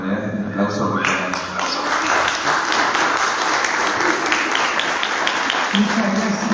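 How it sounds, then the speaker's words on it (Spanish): Sustained audience applause fills a lecture hall after an artificial intelligence and education conference talk, steady dense clapping throughout with some voices faintly underneath. "De todas maneras, un aplauso por"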